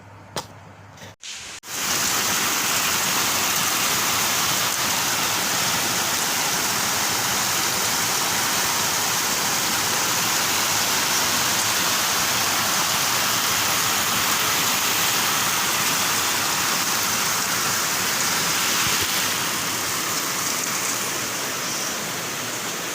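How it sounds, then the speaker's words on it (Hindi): Heavy rain pours steadily in a dense, even roar that continues unbroken after a brief quiet start. "देखिए कितनी बारिश"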